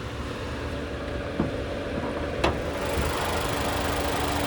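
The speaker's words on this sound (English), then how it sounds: "there's that 2-liter naturally aspirated 4-cylinder" A 2024 Nissan Sentra's 2-liter naturally aspirated four-cylinder idles with a steady, even hum, heard close with the hood open, with a couple of faint clicks partway through and no talking.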